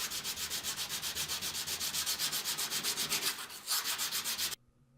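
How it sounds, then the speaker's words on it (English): Steady back-and-forth sanding of a knife bolster with 320 grit abrasive paper, a rhythmic rasping rub repeating about six times a second, close and fairly loud, then stopping abruptly near the end. "So I want to be sure to sand that nice and smooth. I'm using a piece of 320 grit abrasive."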